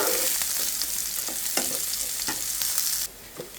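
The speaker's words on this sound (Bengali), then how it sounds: "এখানে আমি পেঁয়াজটা একটু ভেজে নিচ্ছি।" Onions sizzle and fry steadily in a pan, with a continuous crackling hiss and a few soft stirring knocks; the sizzle drops away near the end.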